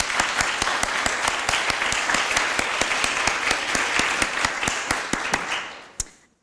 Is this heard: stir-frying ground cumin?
no